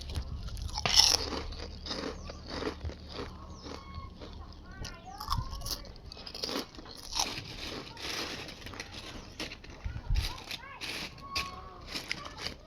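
Freshly fried, dry, crispy snack crunches in repeated bites, close to the mic, with scattered crackles and rustling between them and brief speech over the top.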